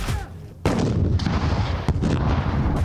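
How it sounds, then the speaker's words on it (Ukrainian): A heavy RPG grenade launcher blast booms outdoors during a military training exercise, followed by a second sharp detonation a moment later, each leaving a rumbling echo. "Гранатометник відпрацьовує РПГ по імітованих ворожих позиціях."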